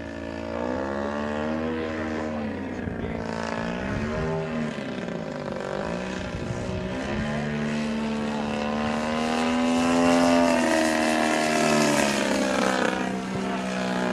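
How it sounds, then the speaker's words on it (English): A Sbach 342 propeller aerobatic airplane flies at Baxter Field, its engine roaring loud and continuous for the whole stretch, the pitch sweeping up and down as it passes and maneuvers, with no voices. "Well, that airplane's pretty slick."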